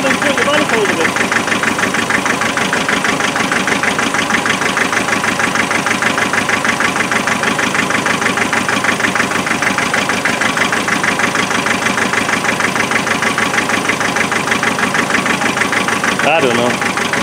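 A naturally aspirated 2.5 litre car engine with a misfire idles continuously and loudly, its uneven knocking rhythm persisting throughout the whole stretch.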